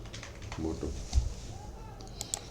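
Someone types on a computer keyboard in a steady patter of close keystrokes, partly under someone talking.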